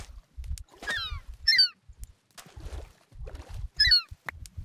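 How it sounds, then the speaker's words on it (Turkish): Seagull calls from Minecraft as a bird mob is struck, several short harsh squawks spaced across a few seconds with quieter game noises between. "Bak vurunca martı sesi çıkıyor."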